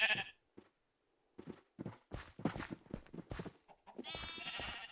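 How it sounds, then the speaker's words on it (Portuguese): Sheep bleat in a rapid string of short, close calls, broken by brief pauses, ending in a longer drawn-out bleat; no voices are heard. "Aí vai nascer uma ovelha sem pelo."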